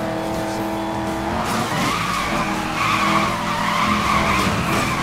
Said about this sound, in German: Aber richtig Bock hier mit dem Dodge Challenger zu fahren, der ist so ein schönes Auto.